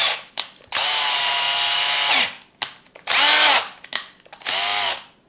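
A Parkside 20V cordless multi tool drill whirs in three sustained bursts, loud and close, each spinning up and winding down, separated by short clicks and handling noises.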